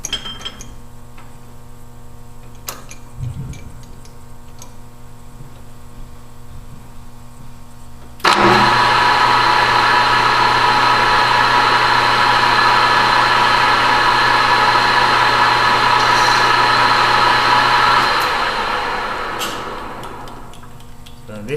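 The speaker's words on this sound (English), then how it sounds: "we're going to use the turning tool to scribe a line" A metal lathe runs steadily while a turning tool scribes a line on the spinning workpiece, a broad steady machine hum that starts abruptly partway in and fades near the end, with faint clinks before it.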